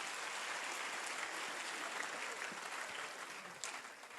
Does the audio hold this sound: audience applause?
yes